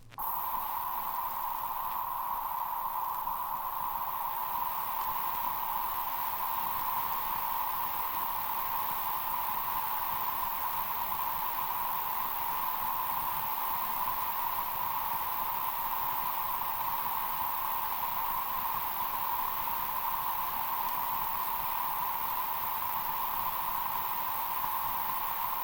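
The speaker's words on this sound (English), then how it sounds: "until the test tone volume equals the volume of the reference tone" A steady equalization test tone sounds continuously on the left channel at octave control 10, in the treble range. It is loud and unchanging over a constant bed of hiss, with no pauses.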